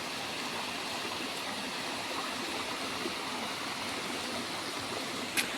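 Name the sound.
Dhareda waterfall flowing down from the hills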